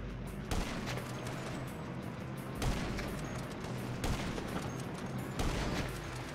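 Gunfire in GTA V on PS4: a few loud, spaced shots crack over a steady rumbling background, each burst sharp and close.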